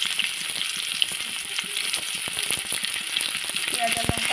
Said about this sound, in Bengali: আমি এখন দিয়ে দেবো পেঁয়াজ,